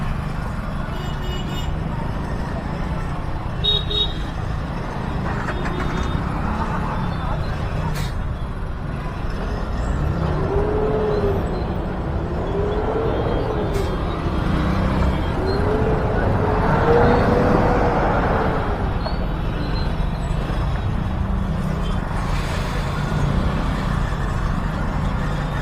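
Steady road traffic noise from cars, buses and trucks stuck in a jam, with low engine rumble throughout and occasional horn-like tones and air-brake hisses, fairly loud and continuous without speech.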